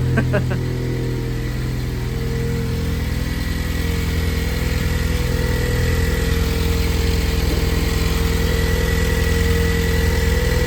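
A Ford Bronco fitted with a newly installed high-mount intercooler idles nearby with a steady, even engine rumble that continues throughout. A person speaks briefly over it at the start.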